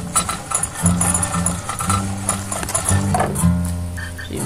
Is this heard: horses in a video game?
yes